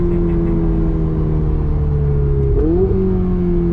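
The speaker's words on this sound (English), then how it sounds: "And the downshifts are just so crisp." A Ferrari 488 Spider's turbocharged engine drones at steady revs, then near the end a crisp downshift sends the pitch jumping sharply upward before it settles again, loud and close with no talk.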